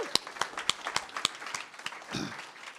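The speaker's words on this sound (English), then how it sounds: "Big, big, big hand of applause for Kimiko Hahn and Dante Micheaux" An audience applauds two poets at a faculty reading. The clapping is light and fairly sparse, with distinct individual claps standing out in a steady rhythm, and it rises into a brief fuller swell near the end.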